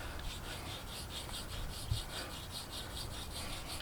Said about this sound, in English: You just keep rubbing back and forth on there until it comes off.